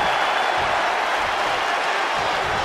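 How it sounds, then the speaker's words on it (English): Virtual wrestling crowd in WWE 2K20 cheering during a women's match, a dense, steady roar of arena noise held at constant loudness throughout. "the crowd is loving Sasha's act"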